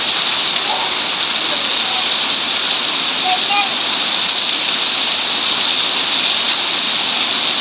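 Heavy downpour and rushing flood water beside a house make a loud, unbroken roar of falling and flowing water that holds steady throughout.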